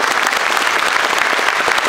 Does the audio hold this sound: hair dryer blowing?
no